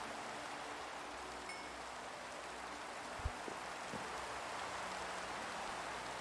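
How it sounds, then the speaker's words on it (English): Rain falls in the Minecraft video game as a soft, steady hiss of broadband patter, with a single brief thump near the middle and no talking. "Is the rain, like, too loud?"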